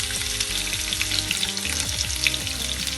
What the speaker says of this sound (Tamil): இப்போ இந்த பொடியா கட் பண்ண இஞ்சியும் பூண்டு சேர்த்துக்குவோம்.